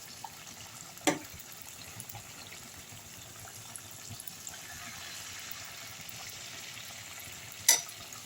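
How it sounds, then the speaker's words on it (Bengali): Malpua batter rounds fry slowly in hot oil, a soft steady sizzle running throughout, broken by a couple of sharp clinks near the start and end. "এরকমই একটা দুটো করে মালপোয়া আস্তে আস্তে ভেজে নেব।"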